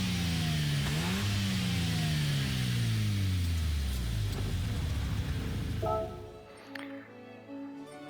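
A 2002 Mazda RX-7 with its original, unmodified engine in Gran Turismo 7, revving up through several rising sweeps, then settling to a quieter idle with short throttle blips near the end.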